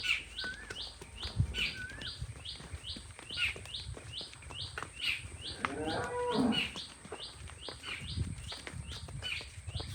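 Jersey heifers on a farm moo in a drawn-out, throaty call mid-stretch, with a couple of shorter lows nearby, under constant rhythmic insect or bird chirping and background farmyard bustle.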